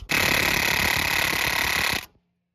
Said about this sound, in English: Here's an opportunity to try out my new impact wrench